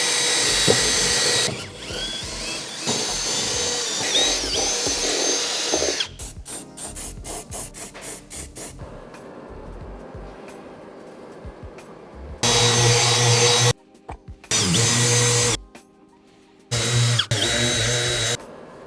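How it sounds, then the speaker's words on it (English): A power drill whirs in several loud bursts drilling a mounting hole for a diesel heater in a classic camper, starting and stopping with short pauses, with some ratcheting mechanical clicks between runs. "All I've got to do now is mark it and drill it."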